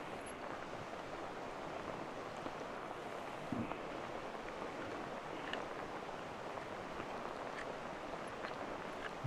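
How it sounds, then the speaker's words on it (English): Storm Bert rain falls on a tarpaulin at a Welsh homestead, a steady, faint, even hiss of drops that continues for the whole stretch without pause. "There's something quite romantic about the sound of rain falling on a tarpaulin."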